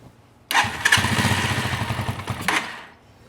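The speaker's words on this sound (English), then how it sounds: "So we're going to start this bike back up now that I made a small turn." A Janus 250 motorcycle engine starts with a sudden crank and catches after about half a second, then runs loud and close with a steady, slightly uneven putter. It revs briefly near the end and then fades down.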